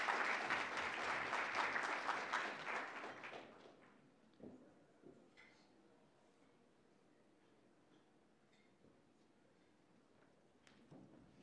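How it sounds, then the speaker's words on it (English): Audience applause at a civic youth event honoring a mock primary participant: dense clapping for about four seconds, then fading to a quiet room with scattered light knocks and shuffles. "Scholars, please give a round of applause to Nye Whitaker for her amazing participation in today's mock primary"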